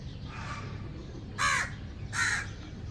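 A crow perched near a home with chickens gives two loud, harsh caws close by, spaced about a second apart over a faint background hum.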